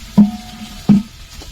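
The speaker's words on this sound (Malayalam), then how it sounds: "2 സ്പൂൺ ഇഞ്ചി, 1 സ്പൂൺ പച്ചമുളക് ചേർത്തു. ഇത് 3 ഇട്ട് നല്ലതുപോലെ ഒന്ന് ഇളക്കുക." Ginger and green chili being stirred in a frying pot, heard as two separate clinking scrapes of a utensil against the metal pot, each brief and ringing, with quiet between them.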